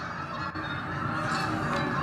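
Flock of migratory geese honking loudly and continuously as they pass close overhead in flight, a dense overlapping chorus of calls filling the whole stretch.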